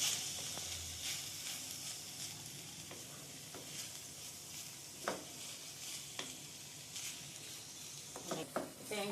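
Green beans poriyal with freshly grated coconut being stirred in a pan, a soft hissing sizzle with light, irregular spatula scrapes and taps, fairly quiet and close, without speech.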